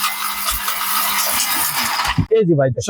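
A blender with three speed settings runs at a steady, loud whir for about two seconds and then stops abruptly, followed by someone speaking close by.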